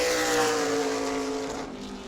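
A super late model race car at full throttle during night qualifying at New Smyrna Speedway, its engine a loud, sustained roar that holds steady and then fades slightly as it passes, with no talk.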